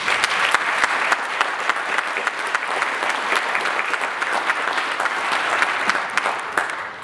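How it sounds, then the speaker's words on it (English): A concert audience at a holiday show claps steadily for several seconds, a dense, even wash of many hands close by with no voices over it. "So a big round of applause for all of our partners as well"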